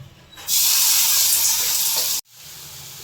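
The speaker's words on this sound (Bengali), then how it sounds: "বড়াগুলো আমি লাল লাল করে ভেজে নিচ্ছি" Split pea fritters fry in hot oil in a kadai, a loud, bright sizzle that swells suddenly, holds for under two seconds, then cuts off abruptly.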